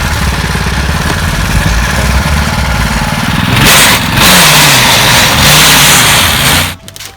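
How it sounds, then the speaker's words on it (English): A scratch-built go-kart engine runs steadily and loudly close by, with a droning motor note that swells louder midway, then cuts off abruptly near the end. "Alright, go-kart works pretty well now."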